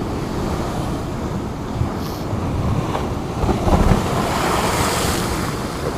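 Stormy ocean surf pounding a North Norfolk beach, a loud continuous roar of crashing waves mixed with gusty wind buffeting the microphone, swelling in a few heavier surges.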